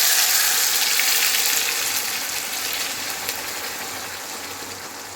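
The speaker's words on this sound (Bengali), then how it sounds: "তো এর মধ্যে এবার ও বেটে রাখা ঝিঙেটা দিয়ে নেব কড়ার মধ্যে।" Ground ridge gourd paste sizzles in a wok of fried chillies and black cumin, a steady, bright frying hiss that slowly softens over a few seconds, with no voices.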